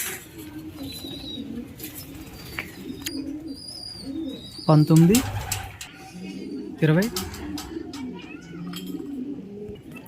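Racing homer pigeons coo inside a loft, soft repeated throaty calls with a couple of louder, nearer bursts, while a voice counts aloud over them.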